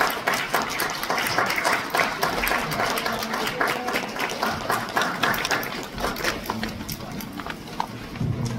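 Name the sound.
applause after award presentation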